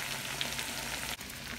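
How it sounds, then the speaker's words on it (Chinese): Sliced potatoes sizzle in butter in a pan, a dense continuous crackle broken by a brief dip near the end, with no voices over it. "现在我们就煎完了 ，fry 完了"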